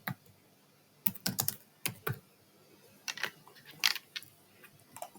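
Keys on a computer keyboard are tapped in short bursts of quick clicks separated by pauses, close and crisp in an otherwise quiet room.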